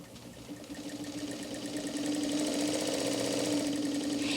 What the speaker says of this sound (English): as we gently press the pedal and start winding the bobbin.